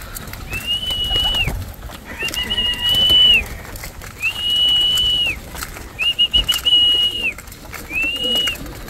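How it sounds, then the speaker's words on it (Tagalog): Racing pigeons cooing and calling in repeated bursts, with wings fluttering and background rustle from a nearby flock. "Grabe, ganyan nakadami po ang ibon natin."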